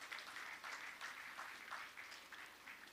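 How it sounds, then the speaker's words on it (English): Faint, distant applause from a health sector town hall audience, with clapping rising and falling in loose pulses throughout a short stretch. "can we please once again applaud Dr."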